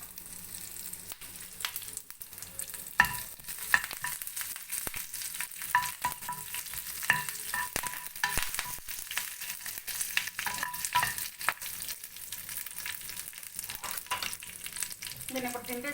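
Red chillies and curry leaves fry in hot oil as chutney tempering, a continuous crackling sizzle with sharp pops and a few louder spits scattered through the sixteen seconds.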